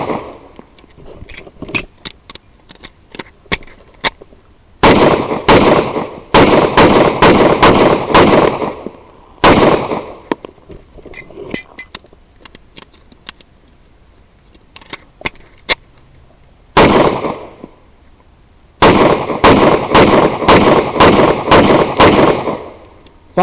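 A Centurion 11 pistol fires Federal .45 ACP rounds in loud, sharp strings of quick shots separated by short quiet pauses, with no talking.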